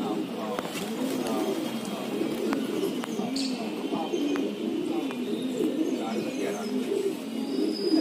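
Pigeons coo softly and repeatedly on a rooftop while people talk nearby, with occasional light knocks and chirps.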